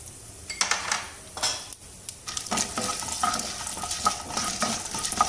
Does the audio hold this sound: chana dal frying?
yes